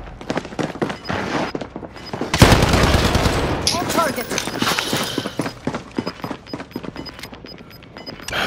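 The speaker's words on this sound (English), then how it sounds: "Oh, yeah, shooting at me, bro." Rapid bursts of gunfire crackle loudly, with a dense volley in the middle and scattered shots before and after, while someone talks over the shooting.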